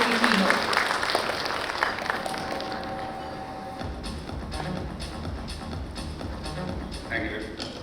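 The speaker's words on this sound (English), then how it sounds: "A very good cheer to welcome Mr. Amit Kumar Rai, CHRO of Tata Play Fiber" A conference audience in Bengaluru claps and cheers to welcome a keynote speaker on stage, a loud, dense wash of applause that fades into scattered clapping and stage noise.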